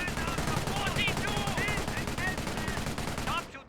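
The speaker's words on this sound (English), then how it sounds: "MG42 hitting the rear armor of the universal carrier, the Bren carrier" An MG42 machine gun in a WWII video game hammers the rear armor of a Universal Bren carrier, firing in rapid, continuous bursts at close range under a voice talking throughout.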